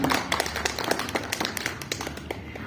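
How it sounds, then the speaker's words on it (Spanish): Applause from an audience welcoming a guest at a talk on independent publishers, a dense run of many hands clapping at moderate volume, with no voices. "Yo quisiera pedir un fuerte aplauso para él, como aplauso de bienvenida"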